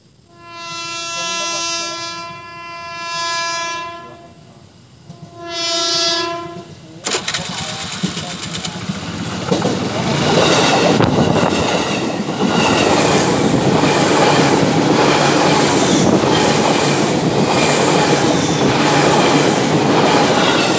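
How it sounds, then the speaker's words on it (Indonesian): A coal freight train on a double-track line near Citeras station sounds its horn in several long blasts, then rumbles past loudly with steady wheel clatter and roar filling the rest. "Biasanya jam segini ada kereta Babarandek Batubara."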